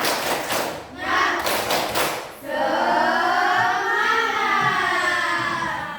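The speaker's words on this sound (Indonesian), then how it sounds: "Semuanya bisa tepuk semangat?" Schoolchildren in a classroom do a short burst of rhythmic group clapping, sharp and close, followed by the class chanting loudly together in unison.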